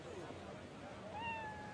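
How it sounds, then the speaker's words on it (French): Cats meowing outdoors at an old arena ruin, a faint drawn-out meow rising over general crowd murmur and background noise. "Vous voyez ces chats? Ils sont partout."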